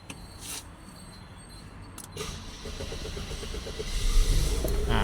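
A Mercedes-Benz or BMW car engine cranks and starts about two seconds in, then settles into a steady idle that grows slightly louder, heard from inside the car.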